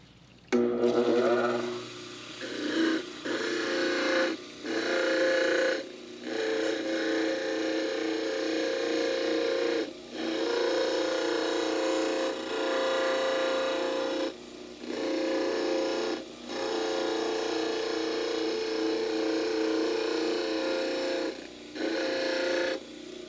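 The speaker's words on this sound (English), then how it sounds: "then you can do the final modification back on the model trimmer" A dental model trimmer grinding an edentulous preliminary model gives a loud, steady motorized whirring with a wet grinding edge, cutting out briefly several times as the model is pulled away and pressed back; no talking.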